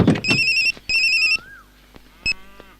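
A phone ringtone plays an electronic melody in two clear bursts and a shorter third one, loud and close, with small background noises between the tones and no one talking.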